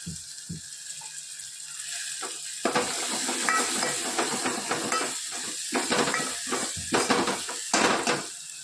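A spoon stirring roasted masala with coriander in a hot pan, repeated scraping and clinking strokes over a steady hiss and sizzle, growing busier after a quieter start, with no voices.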